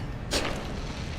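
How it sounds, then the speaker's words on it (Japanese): A firework bursts in the space exploration game No Man's Sky, giving one sharp, bright boom that fades into a short crackling tail over a quiet background. "めっちゃ花火上げてもろてる。"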